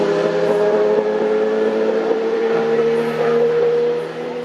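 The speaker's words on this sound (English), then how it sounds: "the Lotus's cause wasn't helped by how the car was stuck in gear, as you can perhaps tell by this audio" A Lotus Evora GTE race car stuck in gear in the rain drones at a held, unchanging engine pitch with strong steady harmonics, then the note drops slightly near the end.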